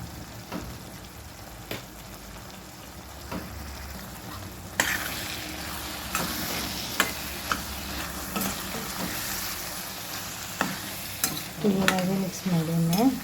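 Ridge gourd and egg mixture with coriander-cumin powder being stirred in a frying pan: soft sizzling under repeated scraping and clacking spoon strokes at an uneven pace, louder and busier toward the end, no talking.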